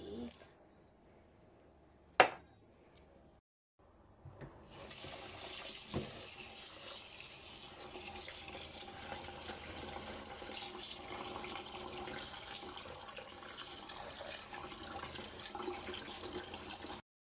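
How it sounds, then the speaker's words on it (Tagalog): Water gushes steadily from a tap as it is poured over rice being washed for suman, a continuous loud rush that starts after a few quiet seconds with a brief clunk, and keeps running to the end. "Hugasan ko muna. Bubuhos ko muna dito."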